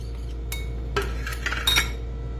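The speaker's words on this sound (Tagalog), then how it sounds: "we will going to mix all the spices. Mix all very well" Spices mixed together in a pot for a one-pot rice, chicken and veggie dish, a few light metallic clinks and scrapes of a spoon against the pot over a low steady hum, with no talking.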